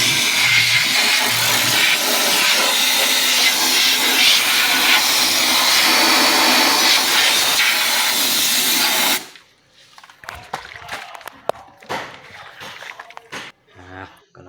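Gear and engine parts from a Cummins engine in a LiuGong 50CN loader being spray-washed, a loud continuous hissing spray for about nine seconds that cuts off abruptly, followed by quieter clinks and handling noises.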